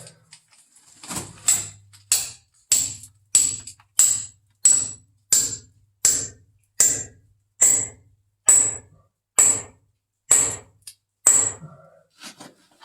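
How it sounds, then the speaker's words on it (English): Hammer strikes on a feather and wedge driven into rock in an abandoned gold mine, about fourteen sharp metallic clinks in a steady rhythm, close and loud, with silence between blows. "we've got our feather and wedge in there"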